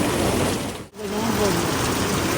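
Heavy rain pours down over a flooded village road in Moga, a dense, loud, steady hiss of falling water that briefly cuts out for an instant before resuming.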